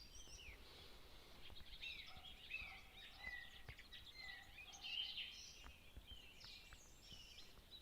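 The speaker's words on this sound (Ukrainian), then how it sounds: "чую через вікно так пташки співають" Faint birdsong drifts in through a window in Ukraine, several birds chirping and trilling at a distance over quiet background hiss.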